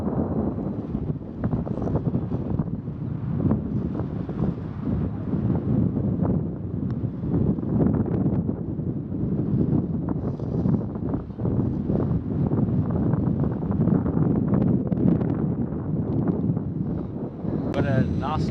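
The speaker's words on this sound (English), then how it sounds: "Got a wind a little bit into off the right" Steady wind buffeting the microphone on a golf course, a loud continuous rumbling roar that surges and dips without pause for the whole stretch.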